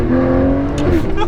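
An Aston Martin Rapide AMR V12 revs loudly and close on a mountain pass, rising engine tones climbing and falling over about a second, with a voice talking over it.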